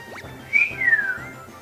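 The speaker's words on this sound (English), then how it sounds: "I don't know why I just whistled" A person whistles a short rising-and-falling tune, one clear sliding note with a quick upward chirp before it, fairly close over quiet game background.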